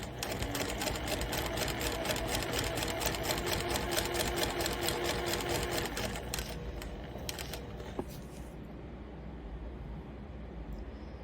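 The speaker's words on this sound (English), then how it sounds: "So this bit will be sewn into the seam." A sewing machine runs at a steady, rapid stitching rhythm while joining quilt blocks, the needle chatter loud and close, then slows and fades to a quieter hum near the end.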